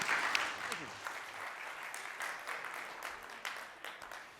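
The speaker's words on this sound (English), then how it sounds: "can I please get a massive round of applause for Peter Gutmann?" A conference audience gives a speaker a round of applause, a fairly quiet, diffuse clapping that holds steady and fades slightly, heard from a distance.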